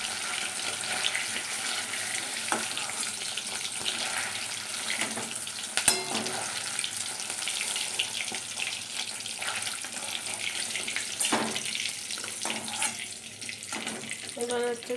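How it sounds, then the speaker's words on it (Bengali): Bay leaf, dried chilli and whole cumin are tempered in hot oil in a wok, making a steady sizzle and crackle close by, with scattered clinks and bumps and faint background sounds. "আমি কড়াইতে তেল আছে, আমি তেজপাতা, শুকনো লঙ্কা আর গোটা জিরে ফোড়ন দিয়ে দিলাম"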